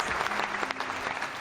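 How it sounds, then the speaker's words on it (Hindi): An audience at an Independence Day event applauds with a steady, dense clapping that fills the whole moment, close and loud, with a faint voice murmuring underneath. "देखो ताली बज गई"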